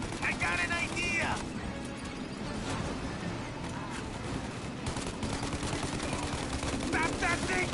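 Sustained gunfire in the Mafia remake, with dense rattling bursts of shots over engine rumble as voices shout urgently over the noise.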